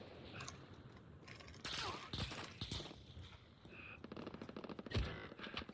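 Call of Duty Warzone gunfire crackles in rapid automatic bursts and scattered single shots, with a dense rattling run near the end, all over busy game background noise.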